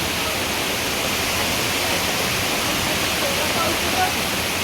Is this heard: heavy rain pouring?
yes